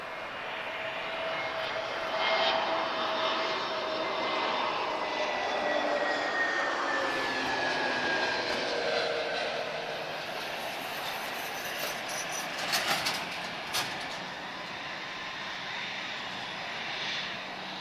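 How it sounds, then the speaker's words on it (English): TAP Air Portugal airliner, flight TP669 from Amsterdam, landing at Lisbon Airport, its steady jet engine roar and rising whine carrying throughout at moderate distance with no talk. "Very, very smooth touchdown there from TAP"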